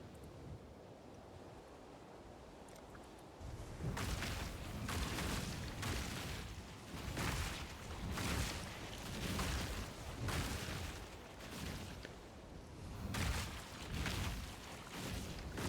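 Molten Strike skill explosions in an action role-playing game, repeated heavy whooshing bursts in a steady rhythm after a quieter start, loud and continuous with no voices.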